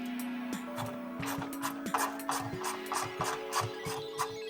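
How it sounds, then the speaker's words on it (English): T30 bit tightening the bottom bumper bolt on an E-Z-GO golf cart, a quick run of clicking ratchet strokes with a faint whirring tone, steady and close. "Now we're going to tighten up the bottom bolt with a T30."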